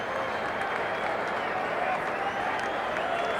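Juventus supporters in a capacity stadium crowd at Stotting Lane roar at a Club World Championship football match against Newell's Old Boys, a steady, distant wash of cheering and clapping that holds without pause.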